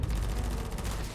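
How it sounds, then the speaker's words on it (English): Dense, continuous gunfire in the space game Starfield, a steady loud barrage of shots with no talking over it. "Who's shooting at me?"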